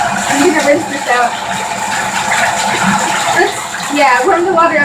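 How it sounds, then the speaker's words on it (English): Tap water running steadily into a sink or basin while pen dye is rinsed out of hair, a continuous close splashing wash with a voice talking over it. "I'm gonna rinse this out."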